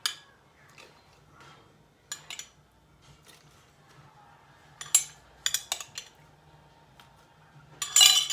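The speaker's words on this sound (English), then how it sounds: "once you've got your second layer of sponge fingers in, you want to spoon over some more coffee" A metal spoon clinks and scrapes against a dish while coffee is spooned over sponge fingers for a tiramisu, with scattered sharp taps spaced irregularly between quiet pauses.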